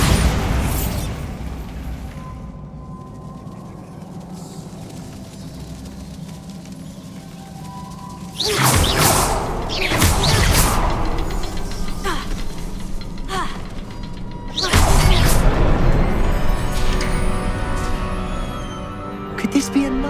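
Two Bombarda blasting spells go off in Hogwarts Legacy, each a sudden loud burst with a long rumbling crumble, separated by quieter ambient stretches and game sounds.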